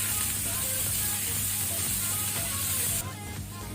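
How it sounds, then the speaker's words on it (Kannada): Sliced onions with salt frying in oil over a medium flame for cabbage palya, a steady close sizzle and hiss that drops slightly quieter near the end. "ಸೊ ಆನಿಯನ್ ಅಂತ ಸ್ವಲ್ಪ ಕಲರ್ ಚೇಂಜ್ ಆಗೋ ತನಕ ನಾವು ಫ್ರೈ ಮಾಡಬೇಕು ಮೀಡಿಯಂ ಫ್ಲೇಮಲ್ಲಿ"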